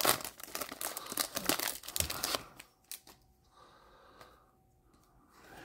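A 2023 Rookie & Stars football trading card pack from a blaster box is ripped open with about two seconds of close, loud crinkling and tearing foil, followed by a few faint rustles and near silence.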